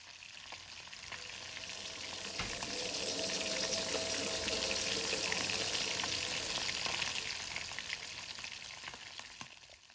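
Spices and meat fry in a pan with a soft, even sizzle that swells gently toward the middle and tapers off, faint and steady with no talk.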